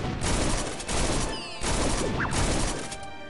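Rapid bursts of video-game gunfire from a Soldier class's open fire skill, loud and close, come in several volleys separated by short gaps, with sharp sweeping effects layered between shots.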